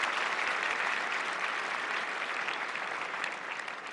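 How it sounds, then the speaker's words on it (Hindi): Dense, steady applause from a large stadium audience at a student exam-discussion event, welcoming the Prime Minister; continuous clapping fills the whole stretch with no speech over it. "इनको जोरदार तालियों से हम स्वागत करेंगे।"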